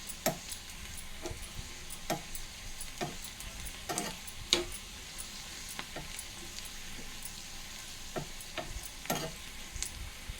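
Spices frying with turmeric in a pan on a stove for buttermilk curry, a quiet steady sizzle broken by sharp clicks of a spoon stirring at irregular moments, with no talking.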